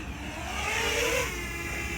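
A small consumer drone lifts off nearby, its motors whirring into a rising, swelling whine that peaks and then settles into a steady hum, with no voices over it.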